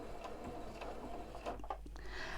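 A sewing machine with a 3mm twin needle runs a straight stitch, a low continuous mechanical whir with faint ticking, heard close and fairly quiet.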